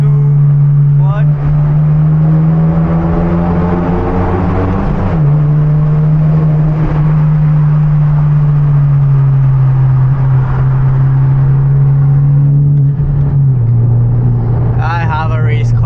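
Hyundai Genesis Coupe with turbo and loud exhaust driving through a tunnel at night: a loud, steady engine drone holds throughout with slight pitch shifts, and a voice is briefly heard near the end.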